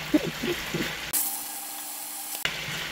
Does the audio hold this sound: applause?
no